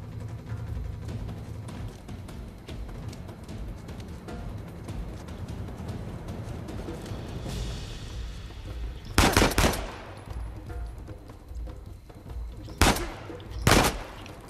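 Gunfire in Uncharted 4, rattling automatic fire through the background followed by a few loud, close bursts of shots near the end.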